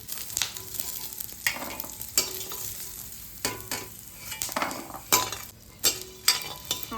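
Almonds and cashews roasting in about two spoons of ghee in a pan, a continuous low sizzle broken by repeated scraping stirs of a spoon against the pan at irregular intervals.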